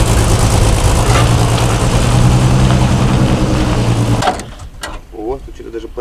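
A 1972 Mercedes-Benz W116 sedan that sat twenty years in a garage, its engine running loud and steady with a low rumble while driving, then cutting off abruptly, leaving quieter mechanical noises.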